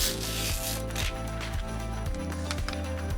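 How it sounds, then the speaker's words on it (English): White milky backing is peeled off a heat transfer vinyl sheet in a close, continuous raspy rub with a rhythmic ratcheting pulse, alone without talk. "now you're gonna use your KTM, peel away the white milky backing"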